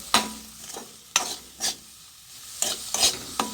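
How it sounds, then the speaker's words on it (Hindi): Spices are roasted in a pan and stirred: a soft background sizzle broken by several sharp scraping strokes of the spoon at irregular intervals, close by and with no talking. "ये थोड़ा सा इसको मसालों को भून लेते हैं हम लोग"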